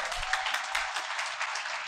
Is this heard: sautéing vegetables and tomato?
no